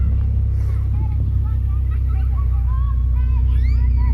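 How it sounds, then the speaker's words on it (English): Lifted off-road Honda CR-V running, with a steady low exhaust rumble throughout and a person talking over it. "gotta love this exhaust note"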